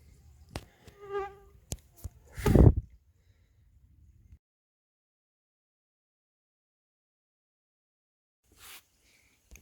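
Mosquitoes whine close to the microphone in a few short buzzing passes during the first seconds, beside a rustle and a thump outdoors near frogs, then near silence with one faint noise at the end.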